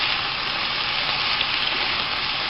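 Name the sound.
food sizzling in a hot pan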